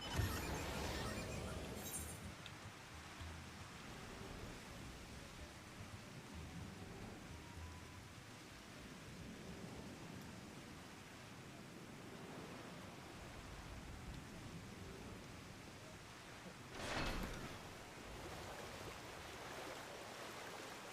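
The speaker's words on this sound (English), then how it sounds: "Ooh, it is fucking raining." Rain falling in the video game Final Fantasy XIV, a steady, quiet, hissing wash that runs throughout, with a brief louder swell near the end.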